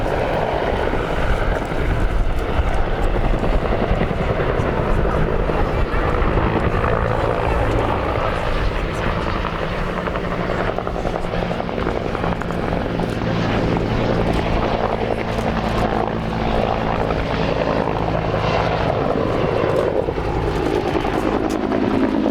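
Loud, continuous aircraft engine roar at the IWM Duxford summer air show, a steady heavy drone with a rotor-like throb and wind buffeting, close and unbroken throughout.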